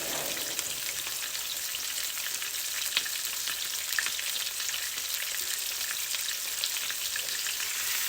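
Lamb shanks browning in a hot pan give off a steady, dense sizzle and crackle that runs unbroken and close, with occasional sharper pops and no voices.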